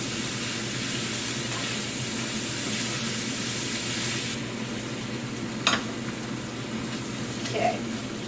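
Chicken stir fry with gochujang paste sizzling steadily in a hot pan, a continuous frying hiss with a couple of scraping clinks from stirring utensils.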